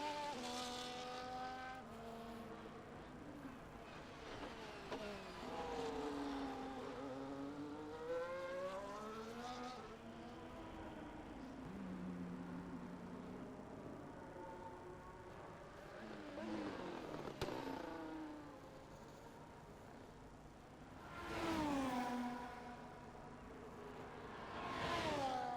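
Formula 1 race cars at the Singapore Grand Prix in the F1 24 video game circulate at reduced speed behind the safety car, engines rising and falling in pitch through corners, fairly quiet, with a louder pass near the end.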